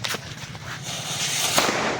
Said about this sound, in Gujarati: હમણાં આગળ ફટાક્યા ફૂટશે મિત્રો.